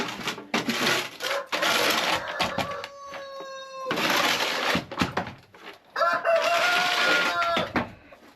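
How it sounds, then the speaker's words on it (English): A rooster crows loudly and repeatedly at close range, long drawn-out calls with short gaps, amid clucking fowl and farmyard noise. "Should never brought that rooster. It'll be so loud."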